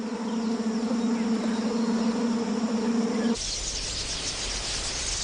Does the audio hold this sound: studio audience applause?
no